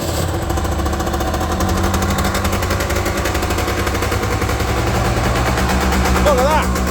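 A Gilera MXR 125 Endurance two-stroke motorcycle engine runs close and loud, a steady rapid buzzing rattle with even pulses throughout, rising slightly near the end.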